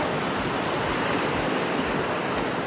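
A mountain river in Tirthan Valley rushes with a steady, broad roar of flowing water, loud and unbroken throughout, with no voices.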